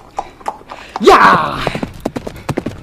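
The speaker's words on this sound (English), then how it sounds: "Whoa, the horse is going really fast now." A Kathiyawadi mare galloping at speed in a tent pegging event, sharp hoof clip-clops in a quick irregular rhythm, close and loud, with a person's excited shout over them partway through.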